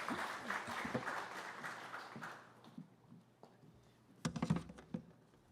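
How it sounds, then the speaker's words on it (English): An audience at a San Francisco tech meetup hosted at GitHub applauds a speaker: a dense wash of clapping that fades over the first few seconds, then a few scattered claps near the end. "So, round of applause, everyone. Give it up for him."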